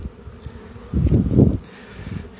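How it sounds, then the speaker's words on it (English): Honeybees buzzing around a hive during an inspection, a low droning hum that swells loudly for a moment as bees pass close, then settles back to a steady background buzz. "I think the buzzing is consistent and calm."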